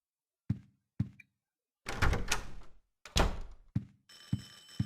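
Door opening in the horror video game Silent Hill 4: The Room: a series of hollow knocks and heavy thunks, then a longer grinding creak and a second heavy thud, ending with a ringing tone under further knocks, no talk.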